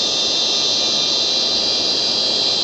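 Steady simulated jet engine whine from a flydubai Boeing 737 MAX 9 in a flight simulator game, a constant high-pitched tone over broadband roar with no talk.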